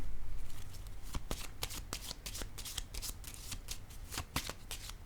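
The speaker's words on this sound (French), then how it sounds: "Attendez, je vais déposer une carte ici" Tarot cards handled and laid down on a table, a close run of quick papery flicks and slaps in an irregular shuffling rhythm, fairly loud with no talk.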